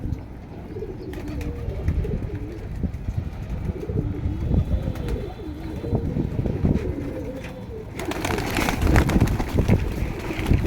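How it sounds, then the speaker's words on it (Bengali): Domestic pigeons cooing after release from their loft, repeated soft, low, rolling coos from several birds close by, with scattered rustling, wing flaps and faint traffic in the background. "তো আজকে কবুতরগুলোকে ছাড়লাম।"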